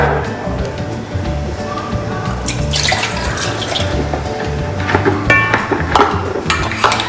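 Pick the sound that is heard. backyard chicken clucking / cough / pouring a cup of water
pouring a cup of water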